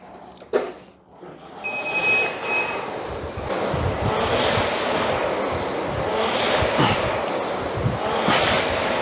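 A brand new rowing machine runs at a normal pace, picked up by a chest-worn mic, giving a steady whooshing rush with rhythmic surges every couple of seconds, close and continuous after a few faint knocks at the start.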